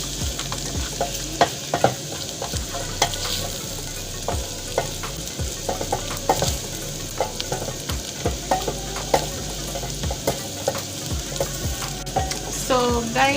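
Onions, garlic and ginger fry in a pan for beef wet fry, a loud close sizzle punctuated by frequent scraping and tapping of a stirring utensil, no one speaking.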